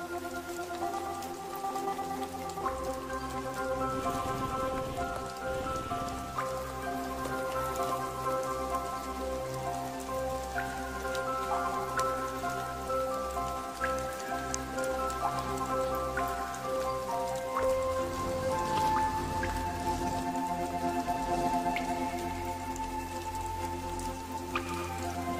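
Rain patters on leaves in a tropical forest, a dense steady shower of drops and drips, with faint birdsong and music underneath.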